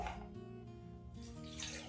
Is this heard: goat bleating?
no